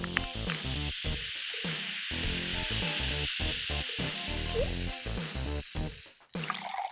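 Green food coloring poured into fizzing Sprite, a soft steady carbonation hiss running beneath louder background music.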